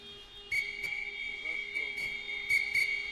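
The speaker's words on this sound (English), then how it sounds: "the referee has blown the whistle" A referee blows a steady, high, sustained whistle in an underwater flipper game, with the tone running for several seconds and a few short bursts of splashing or clicks around it.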